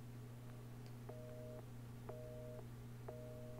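A telephone rings in Resident Evil 7, three evenly spaced electronic trills over a steady low hum, faint and alone with no voices.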